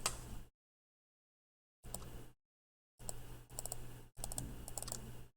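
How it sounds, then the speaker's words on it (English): Bursts of typing on a computer keyboard, close and fairly quiet, with short gaps of silence between clusters of rapid key clicks and no talking. "It's going to let me type here."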